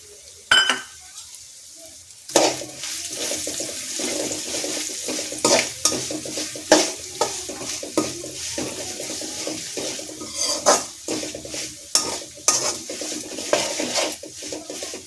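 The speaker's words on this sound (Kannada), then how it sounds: "ಚೆನ್ನಾಗಿ ಮಿಕ್ಸ್ ಮಾಡಿ ಇದನ್ನ ಕ್ಲೀನಾಗಿ ಫ್ರೈ ಮಾಡ್ಕೋಬೇಕು." Grated coconut and a pinch of asafoetida frying in oil for temple-style gojjavalakki, stirred steadily: a constant close sizzle broken by repeated scraping and clinking of the utensil against the pan.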